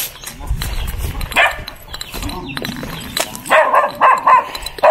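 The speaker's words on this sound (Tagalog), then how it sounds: "May aso" A dog on a farm gives several barks and low growls at close range, uneven and intermittent, with livestock and outdoor rustling around it.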